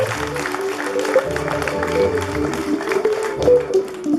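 Congregation at a Christmas night mass in Kabuga applauds in a church, the sustained clapping running the whole stretch beneath singing or chanting voices.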